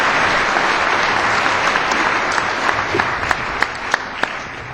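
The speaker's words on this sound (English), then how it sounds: "Let's give them a warm welcome, a warm round of applause for your presentations today." Warm applause from the audience at a Rotary luncheon, a steady wash of many hands clapping, with a few sharper, closer claps standing out as it winds down.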